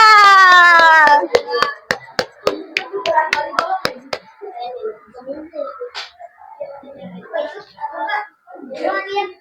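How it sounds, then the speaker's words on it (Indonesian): In a classroom microteaching lesson, students clap hands in a quick, evenly spaced series of about a dozen sharp claps, loud and close, followed by children chattering and speaking. "Beri tepuk tangannya"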